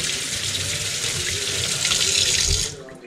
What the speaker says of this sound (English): And then rinse the fish slime off your hands